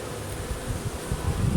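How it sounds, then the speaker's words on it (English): Honey bees swarm and hum around an open hive during an inspection, a steady close drone with low fluttering wingbeats that swell slightly toward the end. "Nice happy bees."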